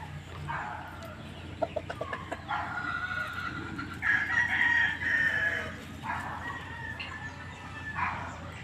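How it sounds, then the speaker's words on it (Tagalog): Several roosters crow in long, repeated calls, one after another, amid a background of clucking chickens on a farm. "Sa mga may hilig mag-alaga ng manok, alam nila yan kung anong lahi yan."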